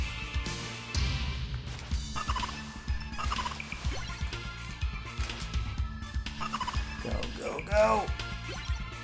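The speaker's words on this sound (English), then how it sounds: "They sound like chickens." Chicken-like clucking creatures in the Castlevania: Rondo of Blood video game, with repeated short squawks and gobbles among thumps and crashes of gameplay.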